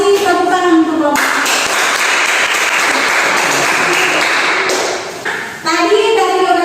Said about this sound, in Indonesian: Tepukan untuk kelompok.